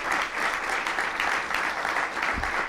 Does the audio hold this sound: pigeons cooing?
no